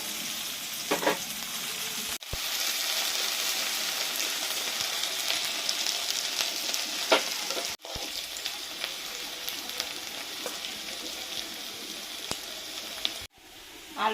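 Diced potatoes fry in a pan with chopped green chilli, giving a steady, close broadband sizzle that runs the whole time with brief stir breaks and no talk.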